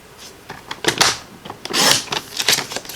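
Paper card for a greeting card kit being cut with several short, crisp snips and rustles close to the microphone, no talking.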